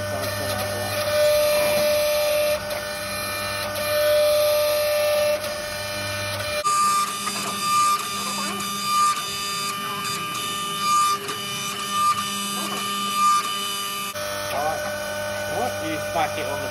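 A workshop press opens out window channel for a 1947 Studebaker truck, giving a droning mechanical hum with tonal whines that shift and stop abruptly partway, then resume, with faint background sounds.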